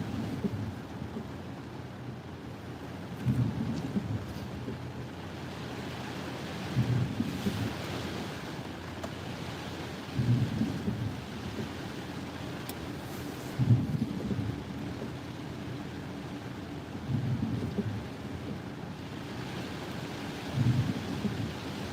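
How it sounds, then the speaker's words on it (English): Wind from passing storm bands buffets the microphone outdoors, a steady low rumble with gusts swelling roughly every few seconds, fairly loud and continuous with no voices. "It's the wind blowing through."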